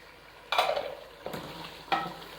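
Tomatoes with their skins removed being stir-fried in a hot pan for a karahi dish, with three sharp bursts of sizzling as the food is stirred, each fading into a steady hiss.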